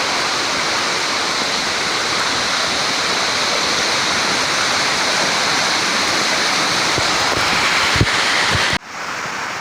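Moramo waterfall in South Konawe roars as a dense, loud, unbroken wash of falling water, steady for several seconds before it cuts off abruptly near the end.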